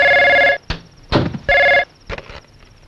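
A telephone rings in two long electronic bursts with gaps, close and loud, with brief knocks and rustles between the rings. The setting is a comedy scene from the film Dheera.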